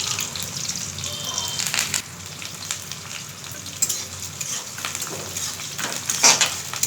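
Chopped onion sizzles and crackles steadily in hot oil with cumin and mustard seeds, with occasional stirring clinks from a pan being readied for Maggi noodles with cabbage. The frying is close and fairly loud, with no talking.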